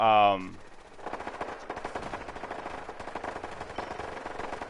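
Automated laser turrets firing in Fallout 4, a rapid continuous stream of sharp zapping shots after a short tonal blip, steady and fairly loud.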